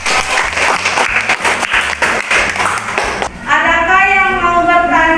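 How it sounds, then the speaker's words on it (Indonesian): Students in a classroom clapping for about three seconds in a lively, uneven burst, after which a voice starts talking. "tepuk tangan dulu dong."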